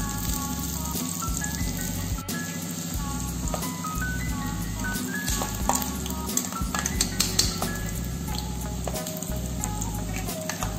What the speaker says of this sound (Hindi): अब हम 1 बाय 1 अपने समोसे ऑयल में धीरे से छोड़ देंगे। इस तरह से और इसे मीडियम फ्लेम पे